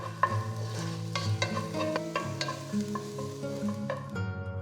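Finely chopped garlic sizzles in hot oil for lemon coriander soup while a utensil stirs and scrapes the pan in quick, uneven strokes, close up and with no talking.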